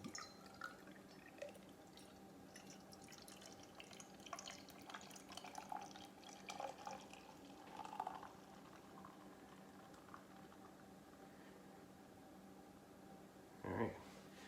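A New England IPA of about 5.3% strength fizzes and trickles quietly as it is opened and poured, a soft, steady bubbling hiss with faint drips and a brief louder splash near the end.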